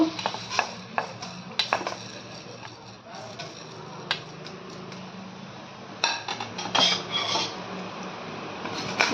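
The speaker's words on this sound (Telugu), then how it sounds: "ఆయిల్ వేడెక్కాక మినపప్పు ఫస్ట్ వేసుకోవాలండి" Urad dal dropped into hot oil in a pan crackles with faint frying hiss, broken by sharp clinks of a metal spoon against the pan, close and moderately loud without talk.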